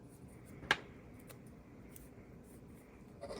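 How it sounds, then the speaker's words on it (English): A small washi tape cutter clipped onto a roll snips through the paper tape, one crisp close click early on and a fainter tick after it, heard alone in a quiet room. "You clip them onto washi tape and you're able to cut them like that."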